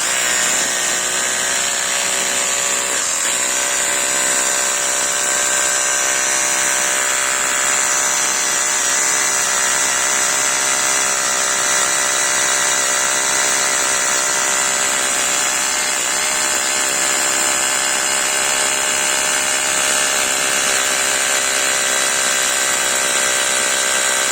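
An Aldi Ferrex SDS drill runs continuously in hammer mode at high speed with a steady, loud grinding whine and rapid hammering buzz, unbroken for the whole stretch.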